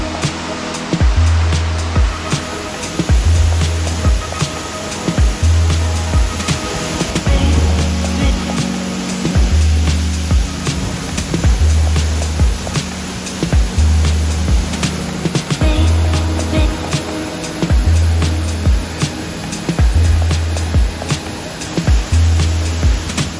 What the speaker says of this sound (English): this is one of the reasons that we came here for waterfalls like this. Probably even more powerful now because of all the rain.